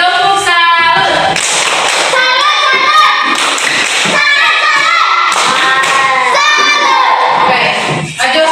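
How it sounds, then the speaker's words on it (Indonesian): A classroom of children claps hands for a student, a loud, dense burst of applause mixed with cheering and shouting voices that carries on throughout. "Oke, tepuk tangan untuk Rio."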